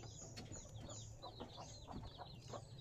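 A flock of laying hens clucks continuously in a busy, overlapping chorus, with short chirpy calls and low murmurs layered at a moderate distance and no talking.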